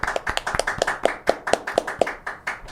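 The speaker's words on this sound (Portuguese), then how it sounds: "Palmas para as polícias militares," Hands clap in a steady, quick rhythm, about a dozen crisp claps over a few seconds, fairly close and alone with no talk over them.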